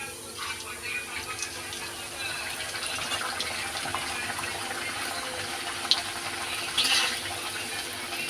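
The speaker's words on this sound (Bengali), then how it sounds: "একটা একটা করে সব ভেজে নেবো" Motorsuti kachori, puffed pea-filled pastries, fry in hot oil, giving a steady, close sizzling hiss that continues throughout with small bubbling pops.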